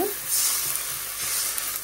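Greens sizzling in a hot frying pan, a steady bright hiss with faint stirring scrapes underneath.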